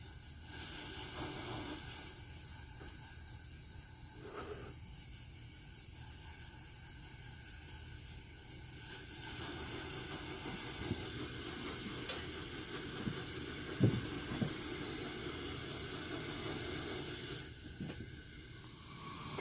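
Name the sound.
Coleman 500 stove hissing while valve worked to clean tip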